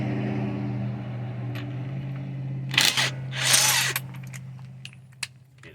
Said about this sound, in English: we're going to need a 19mm socket, and go ahead and break the tire loose.